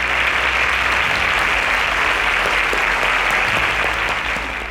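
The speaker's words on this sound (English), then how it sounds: "A round of applause for them." Sustained applause from a studio audience at a televised quiz show, steady and full throughout, with no voices standing out before it tapers slightly at the end.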